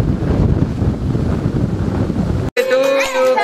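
A child blows out birthday cake candles, making a loud, close, breathy rush of air that lasts a couple of seconds, then cuts off as voices start speaking.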